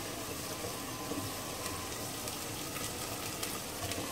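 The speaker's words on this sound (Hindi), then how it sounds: "अदरक लहसुन मैं इसमें भून रही हूँ।" Ginger and garlic fry in a pan with red chili powder, chili flakes and turmeric while making fried red and yellow lentils, producing a steady, close, continuous sizzle with faint crackles and no talking.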